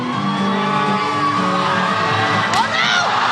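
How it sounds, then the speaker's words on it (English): Students at a Christian high school pep rally cheer on a race, with a loud, dense crowd of shouts, whoops and yells rising in one continuous burst. "Cheer him on, guys."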